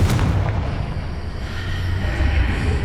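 A Confringo explosive spell detonates in Hogwarts Legacy, a deep booming blast with a sustained low rumble and rolling tail lasting a few seconds, fairly loud and close.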